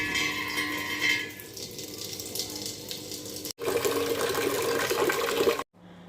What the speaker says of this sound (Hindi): इसमें मैं डालूंगी 4 ग्लास पानी